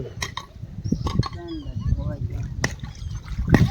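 Water trickles and gurgles as it flows into a farm field during heavy rain, a soft, steady running sound close by, heard under a person speaking.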